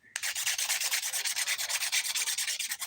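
A fingernail rasped with a 100 grit nail file makes fast, regular back-and-forth scratching strokes, close and bright, with no voices.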